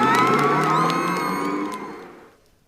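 A crowd cheers and whoops loudly, its excited shouting sustained before gradually fading out over a couple of seconds.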